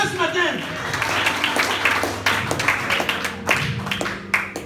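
A church congregation applauds during a French-language service, steady clapping from many hands with scattered voices and cheers mixed in, continuing throughout.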